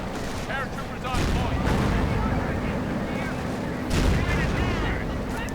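Recoilless rifle shots in a tank-battle strategy game, heard as dense booming gunfire and rumbling blasts with two louder bursts, continuous and close, with voices mixed in under the combat.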